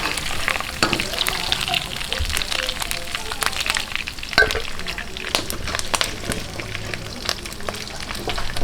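Pork pieces fry in hot oil for binagoongan, giving a steady dense sizzle with crackling pops and occasional stirring clatter, close and continuous with no talking.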